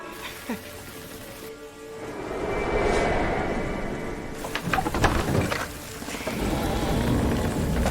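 Heavy rain pours down steadily outside an inn during a night scene in a Tang-dynasty mystery drama, a continuous wash of noise with a low rumble and some brief knocks and voices over it.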